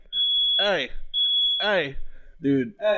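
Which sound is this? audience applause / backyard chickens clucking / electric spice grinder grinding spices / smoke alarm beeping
smoke alarm beeping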